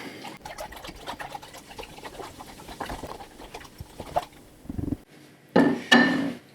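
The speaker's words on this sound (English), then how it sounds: "Give it a bit of a stir." Cola with a packet of yeast added is stirred in a container, a spoon scraping and swishing through the liquid in a busy, irregular rhythm, ending with a couple of louder knocks; no voices.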